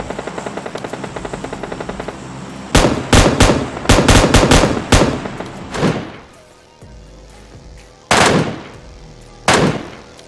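Rapid bursts of MK gunfire in the PUBG Mobile Lite video game, loud and close, with several dense volleys followed by two short, separate bursts over faint in-game background sound.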